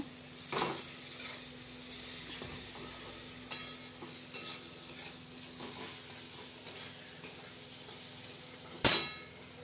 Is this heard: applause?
no